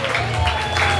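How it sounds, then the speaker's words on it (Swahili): A church congregation claps for Jesus in a short, lively burst of applause, with a steady hum and voices mixed in beneath the clapping. "Pigia Yesu makofi mazuri."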